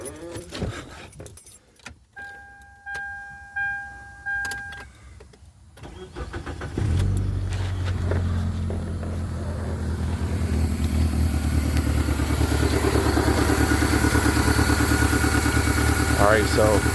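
A 2001 Mitsubishi Galant with its A/C compressor bypassed cranks briefly, then its engine catches and settles into a steady, loud idle that holds to the end, after some earlier clicks and clatter.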